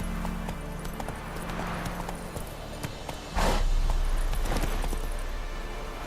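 Roach the horse galloping in the Witcher 3 video game, steady clip-clopping hooves up close, growing louder midway with a whoosh of movement over a low game soundtrack.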